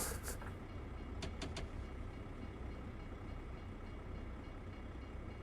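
A train rolls past a rail crossing in American Truck Simulator, in British Columbia, as a faint, distant rumble with a few brief clicks early on.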